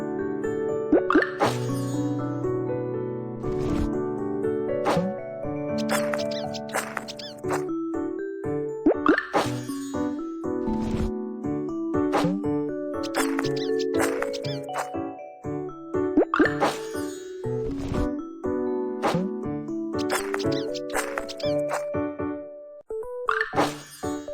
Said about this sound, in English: Let's press the sushi rice with hands.